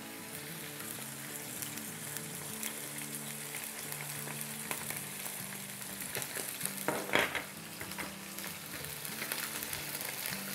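Chicken fries in a pan with garlic and ginger paste while being stirred, giving a continuous close sizzle broken by scraping strokes and a few louder clacks of the spoon against the pot.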